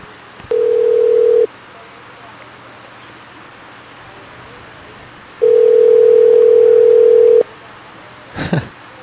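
Landline phone dial tone after a hang-up: a steady hum that sounds twice, a short burst then a longer one with a pause between, ending in a brief click or handset clatter.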